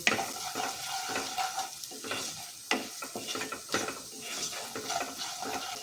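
Spices being stirred into a drumstick curry with gram flour in a pan, a steady run of scraping spoon strokes and clinks against the metal over a light sizzle, close up and rhythmic, with no voices.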